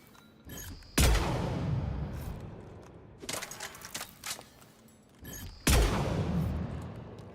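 Weapons firing in Mass Effect 3, two sharp loud shots each ringing out with a long decaying tail, separated by a cluster of lighter quick pops.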